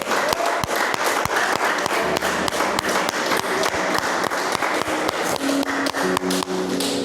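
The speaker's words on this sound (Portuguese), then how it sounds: "Vamos aplaudir o Senhor." Congregation clapping together during a church service, a steady continuous patter of many hands with sharp claps standing out, filling the room at an even level.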